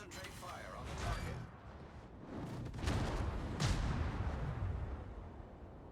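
Naval guns in the World of Warships video game fire in heavy booming volleys, with broad blasts around one second and again near three and three and a half seconds over a rumbling battle bed, while a voice talks through it.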